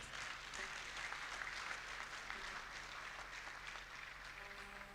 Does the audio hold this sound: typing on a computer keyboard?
no